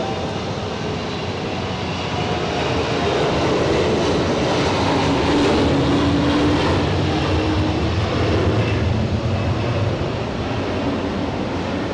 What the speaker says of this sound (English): we've got Lufthansa rolling now. The CRJ 900. Gathering momentum.